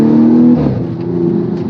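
A 2015 Audi S5 Sportback Black Edition's 3-litre V6 petrol engine revs briefly up close, a loud, deep burbling note that rises and settles into a steady, throaty idle.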